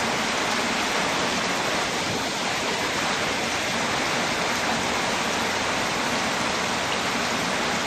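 Heavy late-afternoon rain pours down in a steady, dense hiss that holds evenly and loud throughout, with no voices over it.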